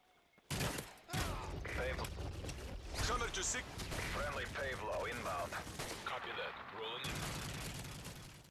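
Bursts of G36C assault rifle fire in Call of Duty: Modern Warfare 3, dense and loud, mixed with game effects and explosions, with someone talking over much of the gunfire.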